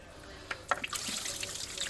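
Coolant gushes and splashes out of an opened car thermostat housing, a loud, bubbly liquid pour that starts abruptly and keeps running.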